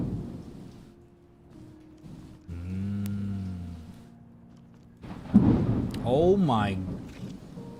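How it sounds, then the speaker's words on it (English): Heavy rain and rolling thunder in the game Deadlock: a low, steady rumble swells and fades under a sustained droning tone, then a voice exclaims over the storm near the end. "Heavy raining with a bunch of thunder."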